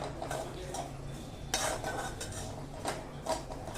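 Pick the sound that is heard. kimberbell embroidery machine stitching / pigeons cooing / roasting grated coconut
roasting grated coconut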